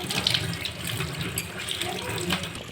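A gas stove burner is rinsed under a running kitchen tap, with a steady gush and splash of water that is close and continuous and shifts slightly as the burner moves under the stream.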